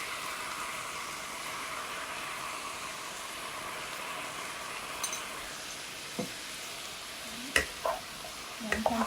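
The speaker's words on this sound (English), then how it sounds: "Then you can fry it again." Food fries in a pan with a soft, steady sizzle, joined near the end by a few sharp clinks and scrapes of utensils.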